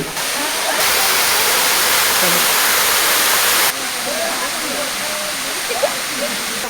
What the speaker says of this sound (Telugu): జలపాతం హోరు